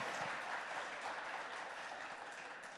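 Steady applause from a studio audience at a televised talk with Baba Ramdev, a dense wash of hand claps holding even and loud throughout with no voices over it.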